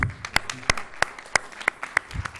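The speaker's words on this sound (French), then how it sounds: "Donc je vous demande d'applaudir" A conference audience at the Bibliotheca Alexandrina applauds with a handful of sharp, separate claps in an uneven rhythm, sparse and close.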